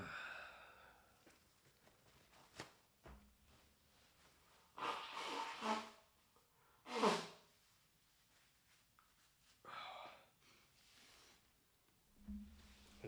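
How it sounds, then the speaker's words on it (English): Several soft, separate nasal sniffs and breathy snorts from a person drawing, close by and quiet, spaced a few seconds apart in an otherwise hushed room. "Sniffles every time I draw."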